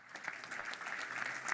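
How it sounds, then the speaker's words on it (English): Crowd at an innovation expo giving a standing ovation to a competition team, brisk overlapping clapping from many people, steady and fairly close, running unbroken through the short stretch. "Let's give them all one more standing ovation,"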